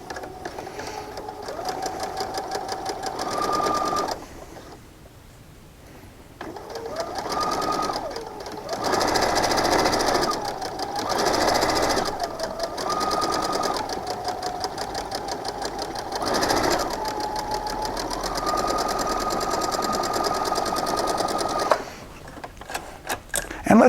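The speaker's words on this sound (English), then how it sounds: "I'm going to go ahead and start to sew on the seam allowance." A sewing machine stitching a 1/4 inch seam on a variegated cloth cityscape quilt, running in several steady bursts of whirring and stopping briefly between them, close and loud with no talk.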